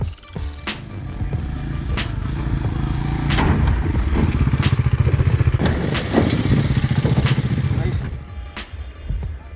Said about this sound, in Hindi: मैं अकेला बाइक ऊपर लेके आया हूँ